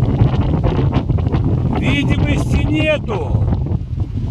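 Strong wind roars and buffets the microphone on a mountain summit with poor visibility, a loud constant rush that continues while someone speaks over it.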